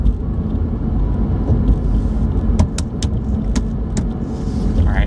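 A car drives along a road heard from inside, with a steady low engine and tyre rumble throughout and a few faint clicks and rattles in the cabin.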